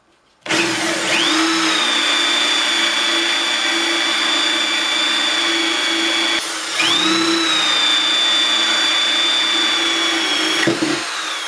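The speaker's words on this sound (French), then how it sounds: "dans le but de faire des trous. Et on perce ça." A cordless power drill bores holes in wood for a coffee table, a loud sustained high whine broken by two short pauses where the motor dips and spins back up, close and alone with no talk.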